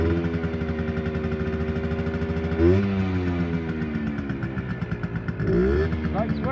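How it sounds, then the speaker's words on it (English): A restored Gilera 50 Trials motorcycle idling steadily after a kick start, its small engine putting out a buzzing, throbbing note close by, with a couple of brief revs and some talk over it. "So I'll fire it up"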